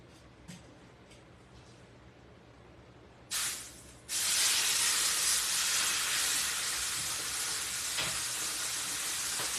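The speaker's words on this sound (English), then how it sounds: "I know that the audio sometimes suffers from all the sizzling going on my stovetop." A steak sears on a hot stovetop, breaking from a quiet start into a loud, steady, broadband sizzle that holds on without a break.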